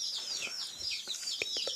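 Small chick clucking and cheeping, a few soft, quick calls in a quiet room with no talk.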